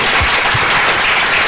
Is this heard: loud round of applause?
yes